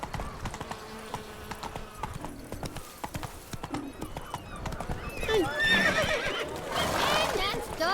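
Roach, the horse in The Witcher 3, clip-clops along steadily with close hoofbeats, and near the end she lets out a loud, rising neigh and whinny, with talk heard alongside.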